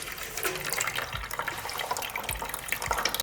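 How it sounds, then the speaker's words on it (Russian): Water drains slowly from a loosened radiator nut in a new-build apartment under renovation. It makes a continuous close trickle and splash with small bursts of drips. "Лучше сливать воду по чуть-чуть."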